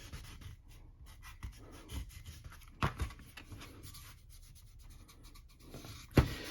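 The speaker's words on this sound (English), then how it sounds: "Just do an initial wipe down over the whole surface with it." Soft rubbing strokes from an alcohol prep pad wiping over a sanded grip surface, quiet and close, with a few louder scuffs and a sharp handling bump near the end.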